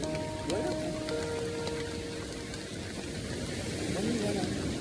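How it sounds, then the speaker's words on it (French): Steady rain falls on surfaces outdoors, a dense even patter throughout, with a voice speaking faintly over it. "il pleut, voilà."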